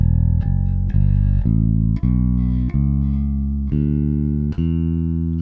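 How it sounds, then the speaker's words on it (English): A bass guitar plucks single notes one after another, stepping upward through the E Dorian scale with clean sustained tones and no talking. "He's just playing all the way up the E Dorian minor scale."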